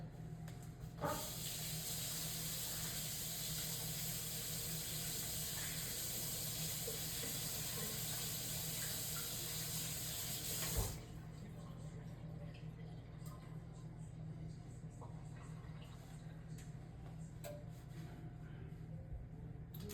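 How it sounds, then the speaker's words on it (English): Running tap water rinsing a cutting board in a kitchen sink, a steady hiss for about ten seconds that stops abruptly, then quiet room tone with a low hum. "Rinse this cutting board off."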